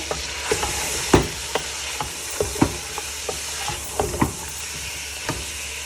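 Ginger garlic paste frying in a pan for chicken nihari, a soft continuous sizzle broken by a scattering of sharp pops and spatters, close and steady with no talking.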